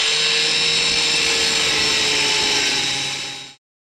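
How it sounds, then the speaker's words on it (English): Angle grinder cutting stubborn strut bolts on a 1995 Mazda Miata, a steady high-pitched whine held for about three and a half seconds, then cutting off abruptly. "So I got my angle grinder"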